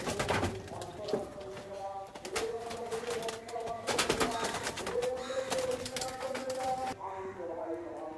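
Pigeons in a loft coo repeatedly in overlapping, rhythmic calls at close range, with someone talking over them throughout.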